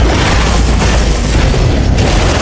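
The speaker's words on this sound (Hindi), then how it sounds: "राष्ट्रपति के जाते ही मुख्य स्थल पर विस्फोट हुआ" A deep, loud rumbling explosion roars steadily throughout, thick with low-end boom and no voices.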